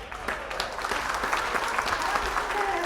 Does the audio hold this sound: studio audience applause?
yes